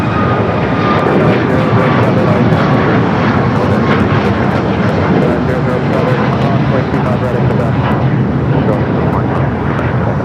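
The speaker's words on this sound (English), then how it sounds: "United Flight 2692 coming up from Newark. 787-9 Dreamliner." A United Boeing 787-9 Dreamliner arriving at LAX from Newark makes a loud, steady jet roar that fills the whole stretch, with a voice talking over it.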